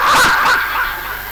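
A voice imitates a dog, giving a couple of quick, loud bark-like yelps at a village Krishna Raslila stage performance near Agra, then fading to a lower murmur.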